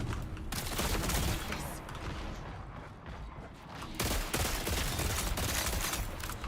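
Grenades burst in rapid succession during a Night Marsh video game match, a dense loud barrage of booming explosions that overlap continuously, with a brief lull midway before another heavy cluster of blasts.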